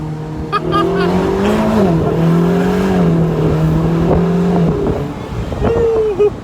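A Ferrari engine at Ferrari World Abu Dhabi revs loudly and close, holding a steady droning pitch that dips and rises before cutting off, with a short rise near the end.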